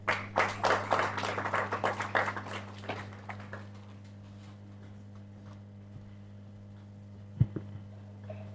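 Audience at a university actuarial society event gives a short burst of clapping that fades after about three seconds, leaving a low steady hum and a single sharp knock near the end.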